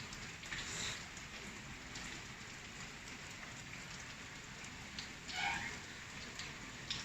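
Heavy rain pouring down outdoors in Thailand during cast-net fishing for snakeskin gourami, a dense, constant hiss of drops on surfaces throughout, with no voices.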